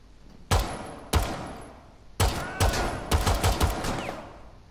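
Gunfire in the tactical shooter Rainbow Six Siege: two isolated loud shots, a pause, then a rapid burst of several close, sharp reports with no talking.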